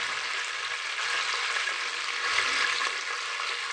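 Vegetables with capsicum, onion and green chilies sautéing in a pan for vegetable biryani, a steady bright sizzle with faint stirring underneath, close and continuous, no voices.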